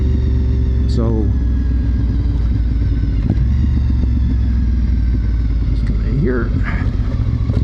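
A sport bike motorcycle rides along a road, its engine a constant loud rumble with wind noise throughout, while a voice speaks briefly over it.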